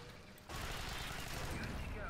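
A submachine gun fires in the video game Alien Swarm, a loud sustained rapid burst that starts abruptly about half a second in after a quieter moment and continues to the end.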